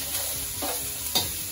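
Chicken stir fry with ginger and garlic sizzles steadily in a pan, broken by a few quick scraping stirs of a utensil, close up and with no talking.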